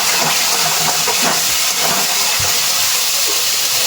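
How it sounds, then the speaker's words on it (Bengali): Cauliflower pieces fry in hot oil with salt, being stirred; a loud, continuous hiss of bubbling oil fills the moment, with faint scraping underneath. "এটাকে ততক্ষণ অবধি নাড়াচাড়া করছি যতক্ষণ না লবণটা ভালো করে মিক্সড হয়ে যাচ্ছে।"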